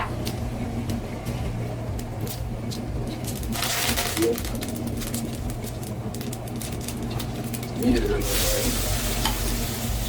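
Onions sautéing in a pan for mutton leg soup, a continuous close sizzle with bursts of stirring and scraping, a low steady hum underneath and a voice talking over the cooking.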